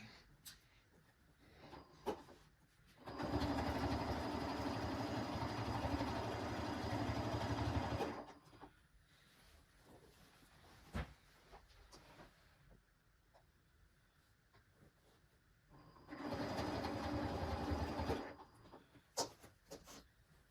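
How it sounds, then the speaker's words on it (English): A sewing machine stitches a quilt-as-you-go embroidery sampler quilt in two bursts of close, steady mechanical whirring, a long run and a shorter one, with quiet handling noises between. "here I am getting into position at the sewing machine"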